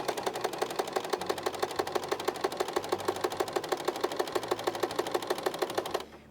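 A sewing machine stitches fabric for a frog-shaped pillow in a fast, even run of close mechanical clicks that stops abruptly near the end, with no voices.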